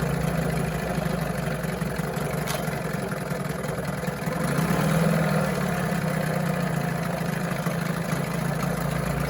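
A Johnson 9.9 outboard motor, freshly reassembled, idles smoothly with a steady low mechanical hum and even throb, a brief swell in the middle, and no voices.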